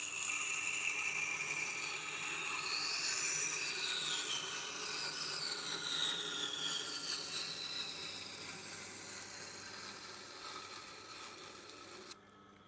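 A Japanese knife is drawn against a sharpening stone to grind a small high bevel, a continuous close rasping scrape with sweeping tonal shifts as the blade moves, ending abruptly near the end.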